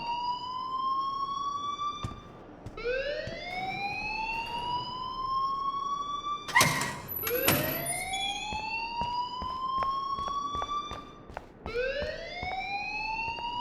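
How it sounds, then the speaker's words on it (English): A fire alarm in the video game Life Is Strange wails in repeated rising siren sweeps, loud and close, broken by a few sharp bangs and clatters, with no talking. "please turn off that alarm since that's your job"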